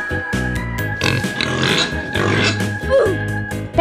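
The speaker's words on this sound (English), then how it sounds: "Pig." A pig oinks in a cartoonish animal-transformation video game, several snorting grunts repeating over a steady backdrop of game music with a brief squeal-like tone near the end.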